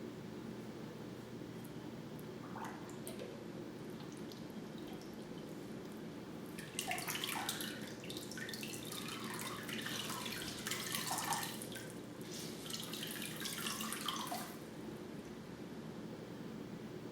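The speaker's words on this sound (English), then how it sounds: "Rewarming the washcloth." A washcloth is dipped into warm water and wrung out during a back massage, giving a quiet low wash of water followed by a stretch of trickling, dripping splashes, then a softer pause.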